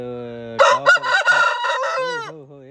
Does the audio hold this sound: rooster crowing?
yes